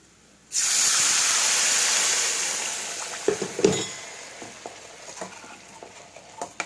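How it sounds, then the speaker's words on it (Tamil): Water pours into a hot pan of homemade masala with a sudden loud sizzling hiss that slowly fades, followed by scattered clinks and stirring noises. "இப்போ தண்ணி சேர்த்துக்கலாம்"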